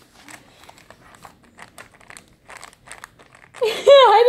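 Typing on a new mechanical keyboard with brown switches: a run of soft, quick clicks and taps at close range, followed by a loud, sudden voice near the end.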